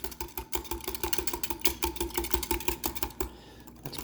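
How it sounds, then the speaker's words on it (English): Banana pancake batter being whisked in a bowl, a rapid steady clicking and scraping of the whisk that keeps up for several seconds with no talk over it. "and then whisk it together."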